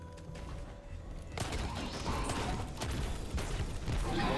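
Rapid sustained gunfire from the Destiny video game during a Nightfall strike called Tree of Probabilities, a dense burst of shots that grows louder and continues to the end, with faint game sounds before it.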